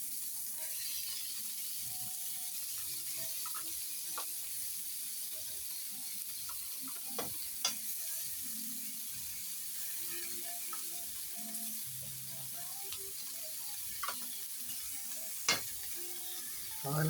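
Fried maya-maya fish laid into a sizzling pot for sinigang: a quiet, steady hiss of hot oil with occasional faint clicks and scrapes of utensils, close and without talk.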